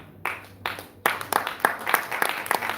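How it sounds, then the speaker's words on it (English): An audience claps in a hall, starting with a few sparse, separate claps that quickly build into steady, close, rhythmic applause from a small crowd. "Thank you for initiating that clap."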